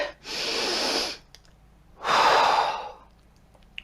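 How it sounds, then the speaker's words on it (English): A single deep breath taken during a breathing exercise, close to the mic: a long airy inhale, a brief pause, then a heavier, fuller exhale, with nothing else around it. "Deep breath."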